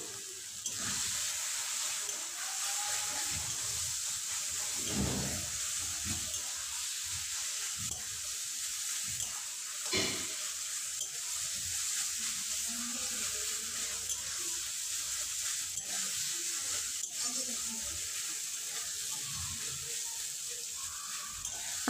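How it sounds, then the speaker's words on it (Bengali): Cabbage labra, a mashed cabbage dish coloured with Kashmiri red chilli powder, sizzles and fries steadily in a pan, catching at the bottom, with a couple of soft clinks from stirring and no talking. "আমার ভাজানো প্রায় হয়ে গেছে"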